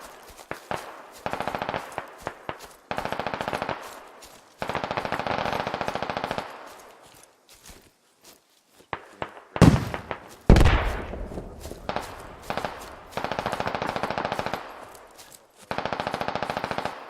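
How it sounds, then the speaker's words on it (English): Bursts of machine gun fire and gunshots crackle from the west during an outdoor airsoft or milsim operation, coming in repeated rapid strings of varying length with brief pauses and a few louder nearby shots. "Shots to the west."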